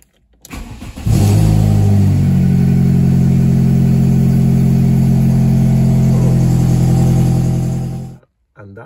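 VW Polo 6N2 engine with an exhaust leak at the manifold and a new catalytic converter, cranking then catching and running loud and close for several seconds with a steady, raspy idle before cutting off.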